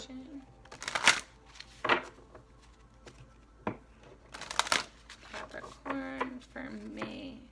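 Tarot cards are shuffled in short bursts of riffling and snapping, separated by quiet gaps, close and fairly soft, with a few faint rustles between.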